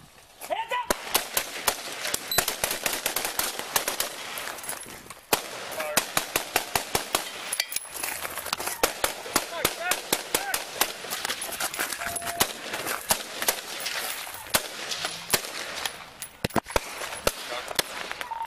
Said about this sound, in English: Two suspects down, one's still firing.